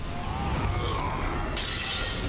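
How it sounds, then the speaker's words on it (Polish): Thrown jars shattering in the video game Elden Ring, a bright glassy crash with scattered breaking fragments over continuous game background noise, fairly loud and close. "Będziesz rzucał słoikami, które mnie podobijają."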